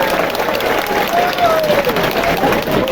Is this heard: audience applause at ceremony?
yes